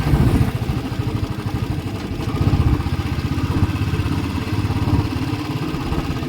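Motorcycle ridden on a road through a cluster of three speed breakers near Omkareshwar, its mid-pitched engine chugging steadily and close, with rhythmic clattering pulses and a brief surge partway through.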